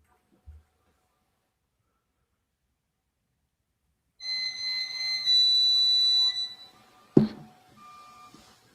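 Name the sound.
driveway alarm beeping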